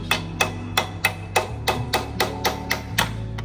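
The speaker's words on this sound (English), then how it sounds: "So I took a little mini hammer." A small mini hammer taps a bolt into place while fitting a wheelie bar subcage on a 2023 Honda Grom, about a dozen sharp, evenly spaced metallic strikes close by with no talk.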